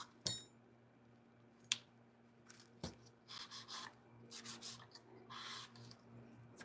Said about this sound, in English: I'm 5-point filing, bringing it up even and straight.